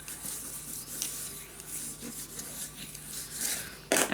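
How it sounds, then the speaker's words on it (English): Paper being burnished down by hand on a Christmas mini album, soft repeated rubbing strokes close up and fairly faint, ending with a sharper scrape. "Burnish it down."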